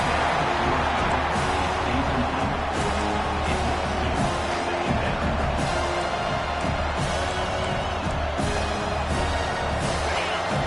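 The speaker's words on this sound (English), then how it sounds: "This crowd bringing the energy and noise early." A Washington football stadium crowd roars steadily and loudly throughout, a dense continuous wall of cheering and noise with no breaks.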